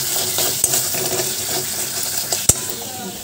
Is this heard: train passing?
no